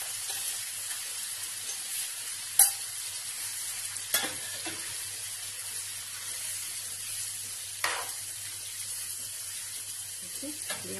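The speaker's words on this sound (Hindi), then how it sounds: "इसमें अब हम ये काजू का पेस्ट डाल देंगे।" Cashew paste goes into a sizzling pan for mutton kofta rezala and is stirred, with a steady soft fry hiss running throughout and a few sharp clinks and scrapes of the spoon against the pan.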